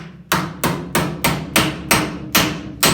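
Eight sharp metallic hammer-on-dolly strikes on a welded sheet-metal seam at a steady rhythm, each ringing briefly, loud and close.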